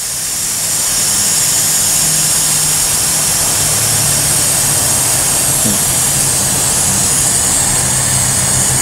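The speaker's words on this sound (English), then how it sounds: "open your air release valve, letting the air out of the tire." Air hisses steadily out of a tire through an open air release valve, a loud, continuous broadband rush that holds unbroken from start to finish.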